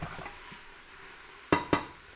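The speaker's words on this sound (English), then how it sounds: "let's stir this bad boy actually." Caponata with eggplant and imported whole peeled Italian tomatoes is stirred in a pan, a low simmering sizzle with soft scraping, ending in two sharp close spoon knocks against the pan rim.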